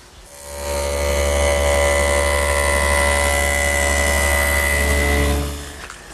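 Table saw cutting a 3/8 inch dado along the front edges of a wood panel, a steady loud whining drone that starts up, holds evenly for several seconds, then winds down.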